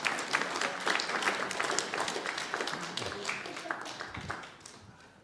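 A room of people claps to welcome a local man at a Sunday gathering, a moderately loud mix of individual hand claps that holds steady and slowly thins toward the end.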